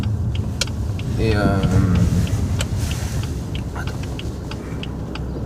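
BMW M3 F80 Competition turning around, engine rumbling steadily at low speed with a rising whine and a few clicks, under people talking close by.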